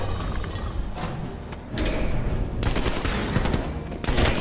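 Automatic gunfire in Call of Duty Black Ops Cold War inside a Russian facility, steady rattling bursts with a short lull, then renewed louder volleys, fairly distant and mid-level in the mix.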